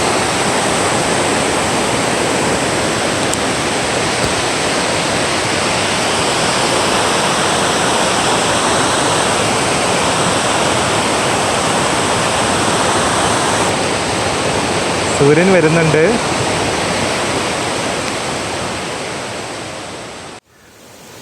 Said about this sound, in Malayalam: നല്ല രസമുള്ളൊരു വെള്ളച്ചാട്ടമാണ് കേട്ടോ ഇത്.